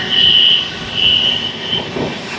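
The Tirupati–Secunderabad Superfast Express (Padmavati Express, 12731) runs with a steady rolling rumble, overlaid by a sustained high-pitched wheel squeal that swells in several long stretches and then fades.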